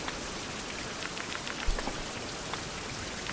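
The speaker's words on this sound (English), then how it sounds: "Alright, with this lovely rain," Steady rain falls in the 16th-century survival video game Survival: Fountain of Youth, a dense continuous patter of drops on surfaces at even volume, with one soft thump partway through and no talking.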